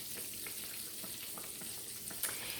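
Battered chicken fried steak fries in hot oil, giving a steady, even crackling sizzle at low volume with faint pops and no voices.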